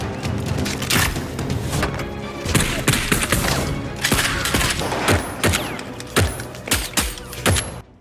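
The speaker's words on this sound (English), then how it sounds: "Outside, gunfire breaks out as agents clash with guards." Rapid bursts of gunfire with sharp cracks and thuds, many shots overlapping in irregular volleys over a busy, loud background.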